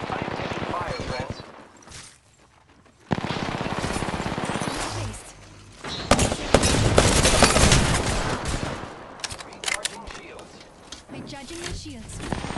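Gunfire in Apex Legends Arenas, bursts of automatic weapon shots and impacts loud and close, with a brief lull near two seconds before heavy firing resumes, mixed with game voice lines.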